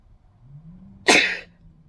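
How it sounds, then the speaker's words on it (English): A single close sneeze from a knitting podcast host, a sharp burst preceded by a soft indrawn breath, in an otherwise quiet room. "I'm going to sneeze."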